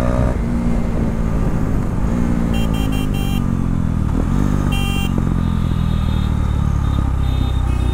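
A KTM Duke 390 single-cylinder motorcycle engine drones loudly and continuously while riding on a city street, its pitch rising and falling with throttle changes and gear shifts, with brief beeps of traffic around it.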